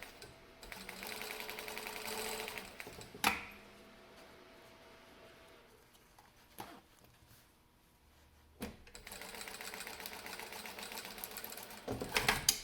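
A domestic sewing machine stitching a trouser zip fly, running in two steady bursts at the start and end, with pauses, clicks and handling knocks in the quiet middle.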